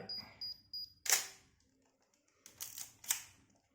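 Several sharp camera shutter clicks, a couple of fainter ones early, then louder snaps spaced apart with quiet gaps between, close to the mic.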